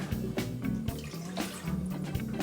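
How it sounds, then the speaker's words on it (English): A cup of filtered water poured into a pan for making beet syrup, a short continuous splashing pour with close, bubbly trickling and no talk. "And we're going to add a cup of water."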